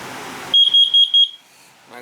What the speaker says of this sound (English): I got the smoke alarm, carbon monoxide detector there.